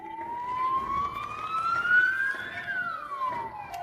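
A police siren wails in a long rising and falling sweep, fairly loud and steady against traffic rumble, as if drawing near on a street.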